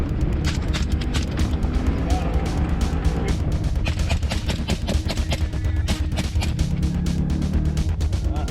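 A hunting car drives at night while hunters chase wild boars, its engine a steady, close rumble with rapid clicking and rattling throughout and occasional rising whine.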